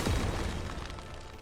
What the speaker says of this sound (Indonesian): Suara ledakan apa itu?